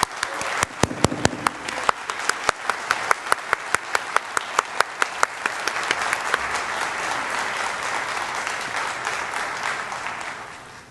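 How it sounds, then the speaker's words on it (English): An audience at a Nurses Week event applauds retired nurses. Sharp separate claps at the start build into sustained, dense applause that carries on loudly before easing off at the end. "May we give our retired nurses a round of applause."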